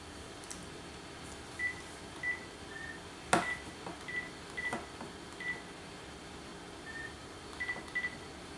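Toy telephone dialing on a Lego Ultra Agents Mission HQ set: a quiet series of short electronic beeps in uneven clusters, with one sharper click, no talk.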